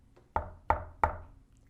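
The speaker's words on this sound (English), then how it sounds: "She knocked at the door" Three firm knocks on a door, evenly spaced and close, each a sharp wooden rap with a short decay, alone against a quiet background.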